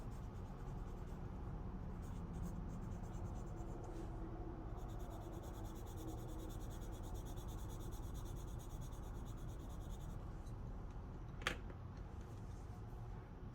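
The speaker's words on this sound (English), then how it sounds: "I'm definitely working a little harder to get the color on the paper." Mondo Llama colored pencil coloring on paper, a continuous close scratchy rubbing of lead on the sheet, steady strokes with no talk.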